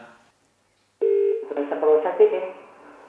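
A Google Home Mini smart speaker placing a voice-commanded phone call to a McDonald's, heard as a short steady tone followed by a run of dialing and connection tones from the device, close and clear after a brief silence.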